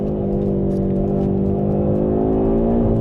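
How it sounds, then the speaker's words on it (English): An Audi RS 3 with its five-cylinder engine pulls hard out of a corner, giving a loud, steady engine drone that climbs gradually in pitch over a few seconds, heard from inside without any voices. "Take the corner, jab at the accelerator,"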